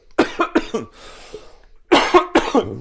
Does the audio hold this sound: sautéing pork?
no